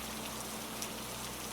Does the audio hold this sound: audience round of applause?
no